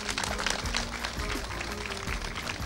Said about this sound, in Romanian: Aplauze pentru Mihaela Marcu din Ploiești.